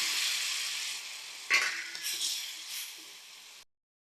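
Kudampuli water is poured into a sizzling fish curry base of fried chillies in a pan, a sudden splash and hiss over the steady frying, which then settles back to a sizzle.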